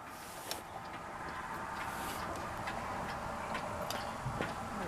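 A steel, hand-painted National Cash Register promotional clock ticks steadily and close, a regular run of light clicks over a low background hum.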